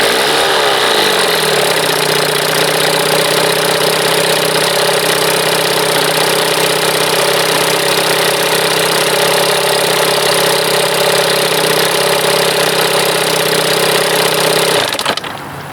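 A 1976 Evinrude 25 hp outboard motor runs steadily and loudly throughout, a close, continuous buzzing drone that cuts off abruptly at the end.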